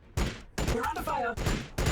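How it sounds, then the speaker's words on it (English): Gunfire in Warhammer 40000 Battlesector, a turn-based strategy game in a Tau versus Adepta Sororitas multiplayer match: a few loud, close bursts of shots with short gaps between them, some talk mixed in. "We're under fire."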